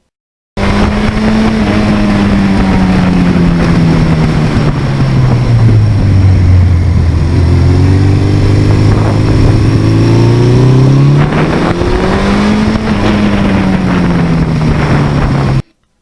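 A loud 1982 Suzuki GS1100E motorcycle engine runs steadily throughout, its pitch dipping and rising as the rider eases off and accelerates, with wind rushing over it.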